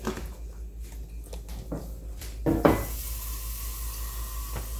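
Water poured into a cooking pot while making galbi-jjim (braised short ribs), a steady wash that follows a few light kitchen knocks and clatters.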